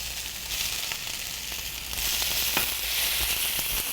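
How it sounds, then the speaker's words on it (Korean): Sliced green onions stir-fried in a hot pan for a Korean squid and pork bulgogi dish, giving a steady close sizzle with a few soft scrapes and pops that grows a little louder partway through. "똑같이 살짝 숨이 죽을 정도로만 볶아주시면 되세요"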